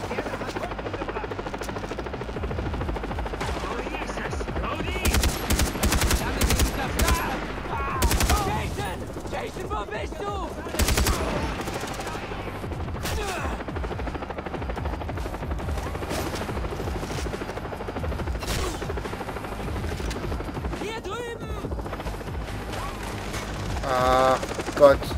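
A helicopter drones steadily in the Far Cry 3 video game while bursts of machine gun fire crackle repeatedly over it, dense and loud throughout, with a few sharper volleys.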